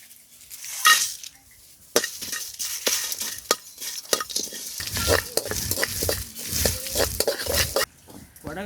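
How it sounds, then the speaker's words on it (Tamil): Garam masala roasts in a pan over a traditional cooking fire, with soft sizzling and repeated stirring and scraping strokes, close by, some louder clanks of utensil on metal. "கரம் மசாலாவை வறுத்து எடுத்துக்கலாம்."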